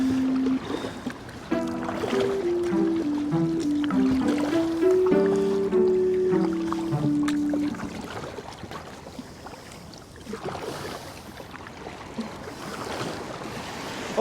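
A wave crashes and washes around a kayak landing on a Monterey beach, with splashing and surf rushing; a voice calls out in long tones over the water, then the wash fades to softer trickling.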